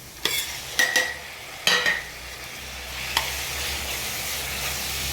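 Onion, ginger, garlic and tomato sauté in a pan for prawn gravy: a continuous frying hiss is broken by several sharp clacks and scrapes of a utensil stirring, with no talk.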